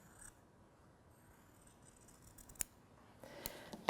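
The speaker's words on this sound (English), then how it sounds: "I recommend that you just use some small trimming scissors and begin to cut along this line." Small trimming scissors cut a fabric circle in a few faint, close snips that grow sharper toward the end, set against quiet room hiss.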